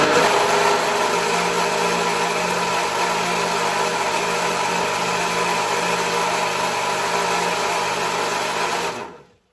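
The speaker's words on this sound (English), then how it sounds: "I'm just going to go ahead and blend it all up." A food processor whirs steadily while blending vegan pepperoni ingredients, a loud, dense motor drone held unbroken for about nine seconds before cutting off abruptly.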